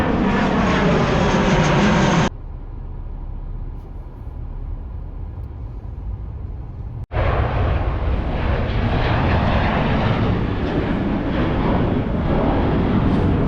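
Aircraft engines roar at Manchester Airport's viewing park, a loud, continuous jet rumble that drops abruptly partway through, then swells back to full strength close by.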